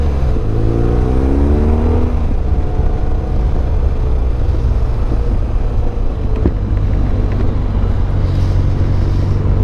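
A scrambler motorcycle engine revs and rises in pitch through the gears, loud and close, with wind buffeting the microphone.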